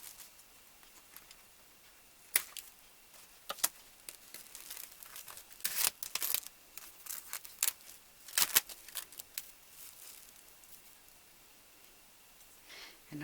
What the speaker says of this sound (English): I'm going to cut these threads that I have around the neck.